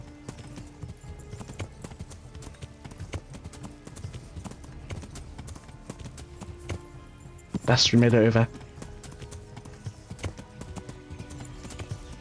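Rhythmic clip-clop of horse hooves in the video game Kingdom Come: Deliverance runs throughout at a steady pace, with someone speaking briefly and a short loud burst partway through.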